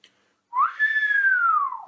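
A single sustained lip whistle, made only with the lips and breath, swoops up and then glides slowly down in pitch, clear and close with no other sound.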